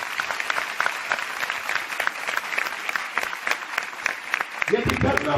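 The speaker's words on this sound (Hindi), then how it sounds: "जोरदार ताली बजाएं उसके लिए।" Hearty audience applause at a church youth gathering, continuous clapping at steady strength, with a voice cutting in near the end.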